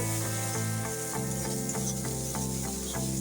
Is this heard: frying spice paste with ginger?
yes